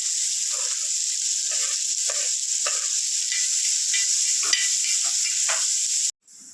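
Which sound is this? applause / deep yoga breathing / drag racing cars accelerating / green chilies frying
green chilies frying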